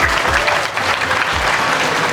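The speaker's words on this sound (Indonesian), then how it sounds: "Saya minta tepuk tangannya yang meriah satu kali lagi" An audience at an Islamic boarding school exam and Isra' Mi'raj celebration breaks into loud, dense applause, with many hands clapping steadily and close throughout.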